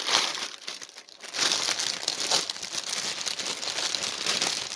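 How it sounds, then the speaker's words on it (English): A crinkly plastic bag holding a pre-stamped cross stitch kit is handled up close, a continuous dense crackling and rustling that surges and eases as it is turned over, with no talking. "those bags are crinkly, ain't they?"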